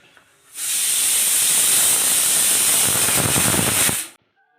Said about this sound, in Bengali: ওই যে প্রেশার কুকারের শব্দ শুনতে পাচ্ছ ওখানে কাবলি ছোলা আর আলু সেদ্ধ বসিয়ে দিয়েছি